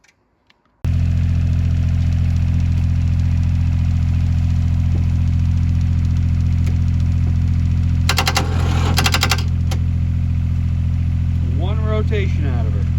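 A Dyna pack CC122 engine is turned over by its starter on a tractor battery. It comes in abruptly after a short quiet start and settles into a loud, steady mechanical drone with brief rattling clatter partway through, and no speech is heard.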